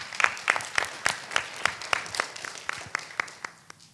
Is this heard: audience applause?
yes